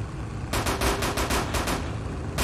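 Rapid bursts of machine gun fire in a World War II tank video game with Russian tanks, loud and close, several rattling volleys across the clip with brief gaps between them.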